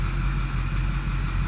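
A 6.4 L Powerstroke diesel engine idles steadily, a low continuous rumble with an even throb, close and alone without talk.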